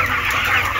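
Chickens on a poultry farm cluck in a short, close, loud burst with a busy background of other birds.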